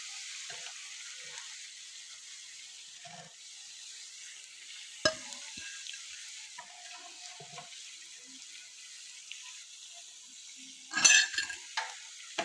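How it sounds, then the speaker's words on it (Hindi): Potato and gram flour cutlets frying in hot oil give a steady, quiet sizzle throughout, broken by a few sharp clinks and knocks of utensils, the loudest near the end. "इसी तरह हम अपने तमाम कटलेट्स फ्राई कर लेंगे"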